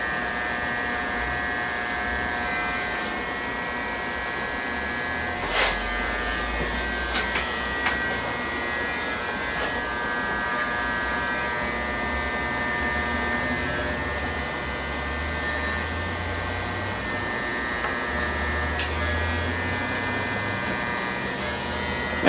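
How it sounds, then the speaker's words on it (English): Electric hair clippers buzz steadily while shaving the whole neck area during a haircut, a continuous close-up motor drone with a few brief clicks and bumps, no talking. "go ahead and shave the whole neck area"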